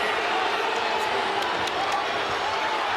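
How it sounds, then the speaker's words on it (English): Basketball arena crowd at an NCAA women's tournament second-round game, Princeton against Indiana, roaring and cheering steadily throughout as a dense, continuous wash of noise with a few sharp accents. "And listen to this crowd, Kevin."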